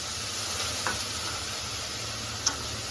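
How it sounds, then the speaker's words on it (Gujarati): Tempering spices sizzle in a pot with a continuous, even hiss and a couple of faint clicks from stirring. "આ તો તપેલામાં વઘારું છે."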